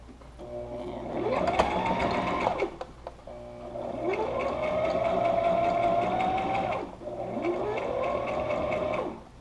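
A sewing machine stitches a DIY face mask in three sustained runs of mechanical whirring. The motor pitch rises at the start of each run, and there are short pauses between them.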